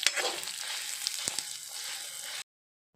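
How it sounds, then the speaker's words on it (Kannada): Urad dal and grated coconut roasting in a pan for pundi gasi, a steady close sizzle with a couple of sharp stir clicks, cutting off abruptly near the end. "ಇದನ್ನೆಲ್ಲ ಹಾಕ್ಕೊಂಡು ಉದ್ದಿನ ಬೇಳೆ ಗೋಲ್ಡನ್ ಕಲರ್ ಬರುವವರೆಗೆ ಹುರ್ಕೊಳ್ಬೋದು"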